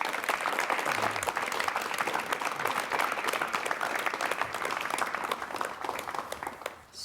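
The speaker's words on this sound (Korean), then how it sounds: "여러분 박수로 맞이해 주시면 대단히 고맙겠습니다." Studio audience applause welcoming a guest onto a 1988 KBS Korean television talk show, a continuous wash of clapping at even strength that tapers off at the end.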